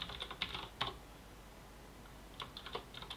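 Someone types commands into a terminal on a computer keyboard, quiet clusters of key clicks in two short bursts separated by a pause, with no talking.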